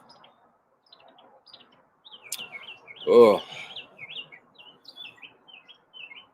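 A small bird chirps nearby on an elderberry bush in a series of short, high tweets spread through the clip. A louder burst comes in the middle, and a brief voice is heard.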